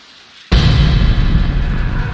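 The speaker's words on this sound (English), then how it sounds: "Can you hear that? Is it rain? It's the shower." A running shower in the Deadly Premonition Origins game switches on abruptly with a steady broadband hiss that sounds much like falling rain, loud and constant after the sudden start.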